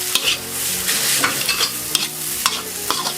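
Fried rice being stirred and pressed in a hot pan with low-sodium oyster sauce, a spatula scraping and clacking in quick, irregular strokes over a steady sizzle, close and loud with no talking.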